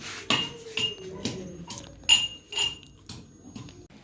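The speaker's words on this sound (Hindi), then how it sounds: "और ये लहसुन को पीस रही है" Repeated sharp pounding knocks, roughly every half second, as garlic is crushed in a mortar, with faint clinks between strikes.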